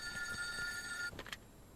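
A telephone rings in the game Der Pate 2, a bright electronic trill repeating for about a second before cutting off, faint under low background noise.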